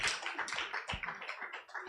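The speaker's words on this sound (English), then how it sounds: "Please, a very huge round of applause for all our panelists here today" A live audience at a business payments conference applauds the panelists, a dense wash of many hands clapping, steady and fairly loud, with no voices over it.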